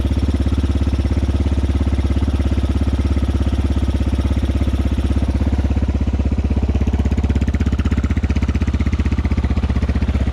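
A GPX FSE/TSE motorcycle engine idles steadily during warm-up just after its very first start, giving a loud, continuous, even rumble close by with no talk.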